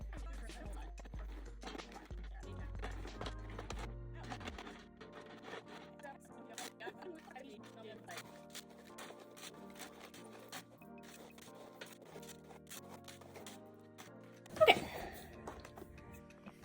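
River rocks and volcanic rocks pour into a Vietnamese giant centipede enclosure as drainage substrate, making scattered faint clicks and clatters with one louder rattling burst near the end, while a voice and soft tonal sounds sit in the background.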